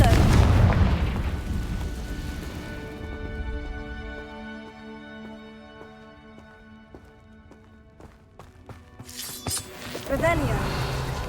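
The Confringo explosive spell in the video game Hogwarts Legacy goes off as a loud burst, followed by a ringing, tonal magical shimmer that fades over several seconds before another rumbling blast rises near the end.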